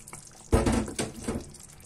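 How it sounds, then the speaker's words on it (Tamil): A thickened brinjal kuzhambu (eggplant curry) simmers with its oil separated, giving a few close, wet bubbling bursts from the boiling pan. "நம்ம குழம்பு நல்லா திக் ஆகி எண்ணெய் எல்லாம் பிரிஞ்சு ஜாலியா கொதிச்சுட்டு இருக்கு"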